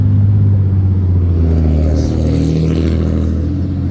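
Loud, close 2016 Honda Civic EX-T 1.5-liter turbocharged four-cylinder engine with a deep steady rumble rising into a rev, the strong low drone holding throughout; no voices.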